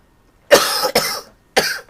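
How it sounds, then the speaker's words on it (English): A few harsh coughs from someone ill with a bug, close and loud: a burst, a second cough right after, then another after a short pause, with no talk between. "Do apologise for the cough, folks."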